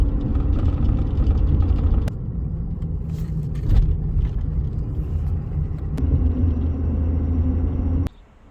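Steady low road rumble from a vehicle heading to a gas station, with a continuous engine drone that shifts slightly in tone a few times and drops away at the end.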